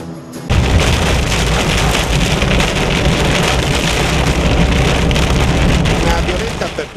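A night thunderstorm with rain and hail in Friuli roars in suddenly after a brief hush, a loud, dense wash of pounding rain and hail with low rumbling that stays steady to the end.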